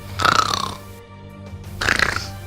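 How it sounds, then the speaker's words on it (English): Two exaggerated cartoon snores, each a rattling, gurgling rumble, separated by a short quiet pause. "That sounds like snoring."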